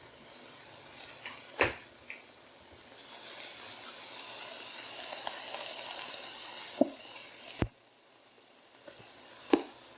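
Minced garlic sizzling in a pan with softened vegetables for Cajun chicken sloppy joes, a steady low frying hiss broken by a few sharp clicks of a utensil against the pan.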